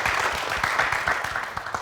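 A studio audience applauds on a television set, dense steady clapping filling the whole stretch at moderate loudness with no voices over it.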